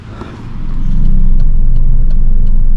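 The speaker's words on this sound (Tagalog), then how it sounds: "meron palang parada ng mga vintage na sasakyan" Vintage and sports cars parade past in Nelson Bay, New South Wales, a loud close engine rumble swelling as the vehicles approach and holding steady, with faint clicks and street noise on top.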